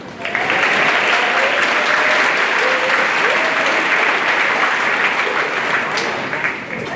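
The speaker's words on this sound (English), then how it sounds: "Can we get a round of applause?" Graduation crowd at a high school ceremony breaking into loud, sustained applause, a thick continuous roar of clapping from many hands with faint cheers mixed in, fading slightly at the end.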